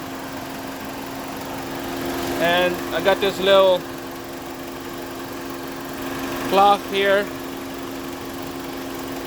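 The radiator cooling fan of a 2001–06 Chrysler Sebring runs with a steady, even whirring hum throughout, while someone talks over it in short bursts.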